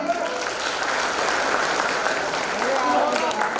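Steady, dense applause from a student audience at a campus orientation event, sustained at even loudness from start to finish with a few voices mixed into the crowd.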